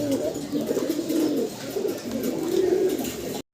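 Lakha pigeons coo in soft, rolling bursts, close and steady for about three and a half seconds before cutting off abruptly.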